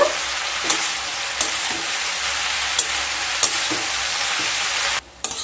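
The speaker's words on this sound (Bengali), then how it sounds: "সাথে দিয়ে দেব প্রায় 200 গ্রাম সজনে ফুল। এবার খুব ভালোভাবে মিশিয়ে নেব।" Vegetable curry with about 200 grams of drumstick flowers (sajne phool) being stirred in a pan, a steady broadband sizzle with several distinct scraping strokes spaced through, cutting off briefly near the end.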